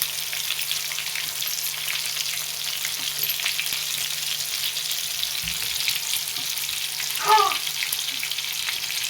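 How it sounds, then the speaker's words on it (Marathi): Garlic frying in hot oil for a village-style safflower-leaf bhaji, a continuous even sizzle up close with one quick clatter of a utensil partway through. "तेल गरम झालंय असं लसूण टाकून घेतले"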